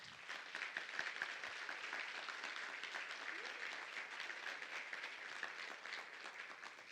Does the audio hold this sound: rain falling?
no